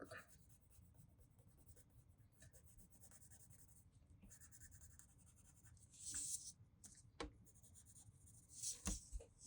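Pencil scratching and shading on paper while darkening the pupil of an anime eye, a steady close rasp with brief louder strokes toward the end, quiet and alone.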